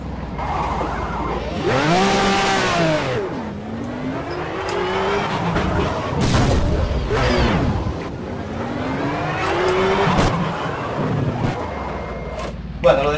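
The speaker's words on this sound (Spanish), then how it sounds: "qué pasada como suena el V12" A V12 race car engine in Project Cars at Mount Panorama revs hard and loud, rising through gears in repeated sweeping climbs with shifts and some tire noise, under a man's occasional speech.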